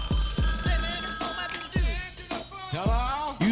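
A telephone rings in short repeated bursts, loud and close, with some other sounds layered between the rings before a podcast voicemail segment.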